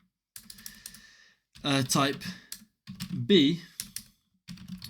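Computer keyboard keys tapped in short bursts of clicks, close and fairly quiet, alternating with a person speaking.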